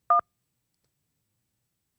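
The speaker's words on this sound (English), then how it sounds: "Well, we got a phone call coming in." A single short two-tone telephone beep signals an incoming call during a live stream, brief and clear, followed by silence.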